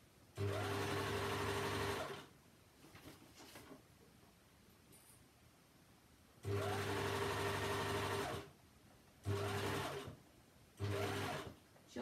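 Sewing machine stitching the hem of a jersey skirt with twin stitches, running in close, steady whirring bursts of a few seconds each, separated by quiet pauses.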